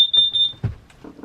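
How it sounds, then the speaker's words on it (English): A smoke alarm going off inside a narrowboat, a loud piercing high beep pulsing in quick bursts, then cut off by thumps and clatter nearby. "This is not a false alarm, people."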